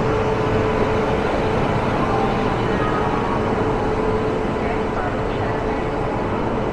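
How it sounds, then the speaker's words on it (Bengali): A loud, steady rumble of a train rolling into a station, continuous low roar with faint squealing tones, no pauses throughout. "আর একটা যে আমার সামনে দিয়ে ট্রেন ঢুকছে"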